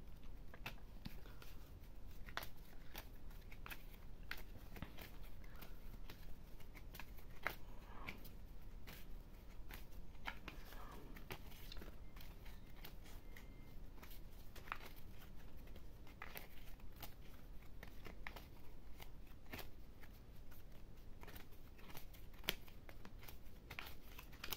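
Tarot cards shuffled and drawn for a reading, a steady run of soft papery riffles, slaps and flicks close up, with no voice.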